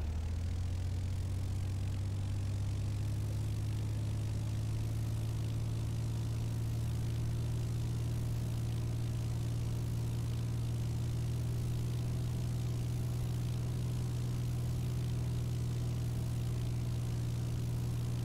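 A light propeller airplane engine rising in pitch as it is throttled up to 1800 rpm, then holding a steady, loud droning hum heard from inside the cockpit.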